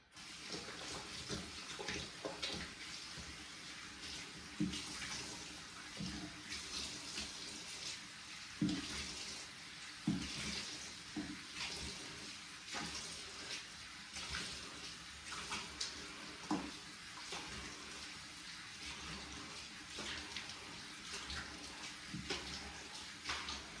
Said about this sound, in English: So let me wash my face real quick.